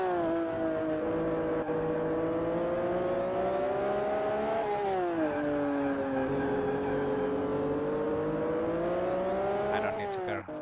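A Williams Formula One car accelerating in the racing video game Grand Prix 2 during warm-up in Australia, a loud continuous engine whine that rises in pitch, drops with a gear change, then climbs again.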